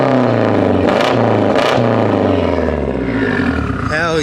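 K-series engine swapped into a Mazda RX-8, revving hard nearby: a loud droning engine note that climbs and falls through several throttle blips, with people talking over it.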